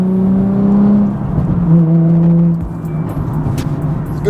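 A modified Nissan 350Z with an ISR 3-inch blast pipe exhaust revs up loud and close, its engine note rising through the gears and then settling into a lower droning run with no one talking.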